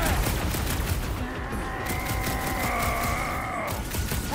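Blaster fire crackles in dense bursts during a hectic battle in the video game Marvel's Guardians of the Galaxy, with steady energy-weapon bursts over a loud mix of effects and tones.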